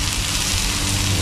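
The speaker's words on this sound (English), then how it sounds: "the rain start falling now." Rain falling outdoors at an open-air cooking spot where red snapper and breadfruit are being roasted: a dense, steady hiss of drops that stays even throughout, with no talking.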